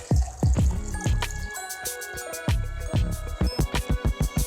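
Water poured from a container into a pitcher of homemade lemonade made with fresh lemon juice and sugar syrup, heard as close splashing and dripping bursts that pause and resume, ending in a quick series of drips.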